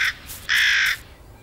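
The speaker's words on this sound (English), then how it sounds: "Frantically, the crow tries to crack open the nut, but it keeps rolling away, so there's no alternative but to hide it." A crow gives two harsh caws: a short one at the start, then a longer, louder one about half a second later. Both sound close and stand alone without talk. Nearby, the crow is struggling to crack a rolling nut.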